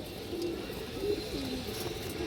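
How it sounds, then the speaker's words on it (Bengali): A female pigeon coos softly nearby, with a few low, rolling coo notes over quiet background hiss. "অসাধারণ সুন্দর একটা কবুতর দেখেন আপনারা"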